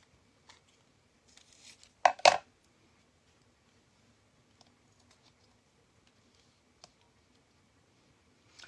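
Scissors cut paper pieces for a decoupage Christmas ornament, producing a few quiet snips and rustles clustered in a short burst, with light clicks scattered in an otherwise quiet room.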